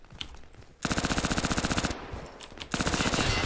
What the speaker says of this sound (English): The SMG was pretty good close range there, but, as you can imagine, not very good long range